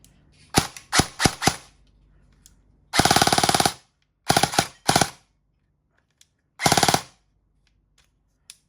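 An E&C 340 Strike Industries electric airsoft gun fires sharp, loud bursts: a few quick single shots, then several rapid full-auto strings separated by silence.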